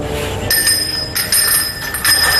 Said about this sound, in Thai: สั่นกระดิ่งเหมือนกระดิ่งเรียกผีอะครับ